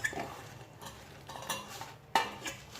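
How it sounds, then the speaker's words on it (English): Fried chicken pieces tipped into a boiling spiced mixture in a pan while cooking gluten-free chicken 65, giving soft stirring clatter and light sizzling with a sharper clink near the end, with no talking. "Now I am adding all the fried pieces."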